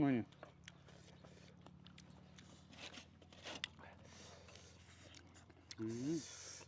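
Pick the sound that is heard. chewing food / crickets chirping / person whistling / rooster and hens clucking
chewing food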